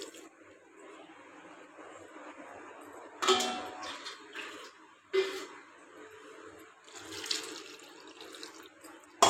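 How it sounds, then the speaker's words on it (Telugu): Water poured into a cooking pan holding moong dal in a home kitchen, heard as three separate splashing bursts over a low, steady background, with no talk. "దీంట్లో మనం సరిపడినన్ని వాటర్ వేసుకోవాలి."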